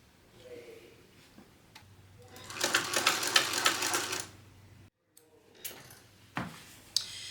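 Sewing machine stitching a bucket bag seam at an eighth-inch allowance, a steady rapid run of needle strokes lasting a couple of seconds at moderate volume, with quieter fabric handling before and after.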